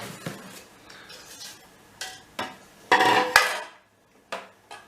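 Cocoa cake batter stirred in a bowl for a Malaga cake, a spoon scraping and clinking against the bowl in a few separate bursts, fairly close, with short quiet gaps between strokes and no talking.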